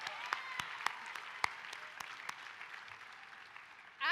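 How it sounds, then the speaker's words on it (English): Scattered, fairly light clapping from an audience at an African American Female Conference at Ohio State University, with a few sharper individual claps standing out over a soft wash, ending with a brief louder burst. "Yeah, go ahead, clap for her."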